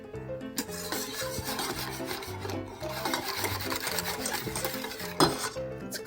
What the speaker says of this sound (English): So start tempering this into my egg yolks.